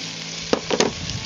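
Softened onion and freshly added tomato sizzle in a pan for rabbit stew, a steady close frying hiss broken by a few brief stirring scrapes.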